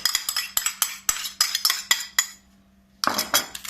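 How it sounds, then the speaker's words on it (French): A utensil beats orange cake batter made with breadcrumbs in a bowl, clinking against the sides in quick, regular strokes, then pausing briefly before a final few clatters. "Je mélange le tout."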